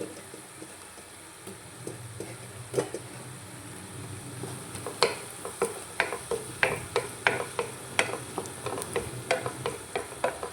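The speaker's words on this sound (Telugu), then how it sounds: "ఉల్లిపాయలు బాగా మగ్గాయండి. ఇప్పుడు టమాటా ముక్కలు అయితే వేసుకుందాం." Tomato pieces stirred into softened onions sizzling in a pan for a broad bean masala curry, a continuous low frying hiss broken by a rhythmic series of sharp ladle scrapes and clicks against the pan.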